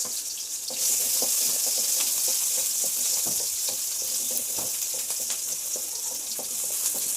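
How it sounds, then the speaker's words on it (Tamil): Small shallots frying in a couple of spoons of hot oil for okra sambar give a steady, close, bright sizzle that holds evenly from start to finish, with faint utensil clicks and no talking. "கொஞ்சம் சின்ன வெங்காயம் போட்டுக்கோங்க."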